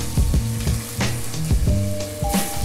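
Tomato tipped into a hot pot of oil while cooking cuttlefish with spinach and raisins, giving a steady loud sizzle and fry with a few stirring clatters, and no talk.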